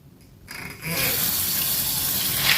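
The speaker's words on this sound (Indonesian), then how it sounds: "kita bilas menggunakan air yang bersih" Clean water running from a tap to rinse soybeans while making tempeh starts softly, then swells within a second into a steady, full gush that continues close by.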